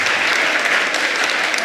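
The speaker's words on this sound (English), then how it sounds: "I request audience to encourage them with your claps." An audience bursts into loud, steady applause for award-winning board exam toppers at a school prize event, a dense even clatter of clapping hands with no pauses.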